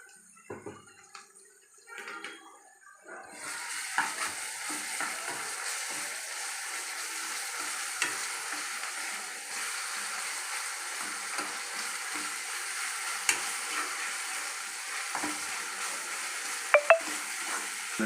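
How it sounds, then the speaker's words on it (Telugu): Ginger and garlic sizzle steadily in hot oil for a cabbage fry, with soft stirring scrapes and occasional utensil clicks; quiet at first, then a continuous, fairly close frying hiss. "పచ్చి వాసన పోయేంత వరకు చాలా మంచిగా వేపుకుందాం"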